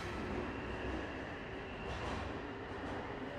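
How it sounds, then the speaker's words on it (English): A train running on rails, a low steady rumble and rolling wheel noise heard as if from inside a carriage, faint and continuous, with no voices. "On the train back to Kodanshita Station, Miyako checked her work mail"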